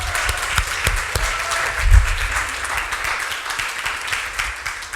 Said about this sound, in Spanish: ¿Por qué no me ayudan a darles un aplauso a todos ellos?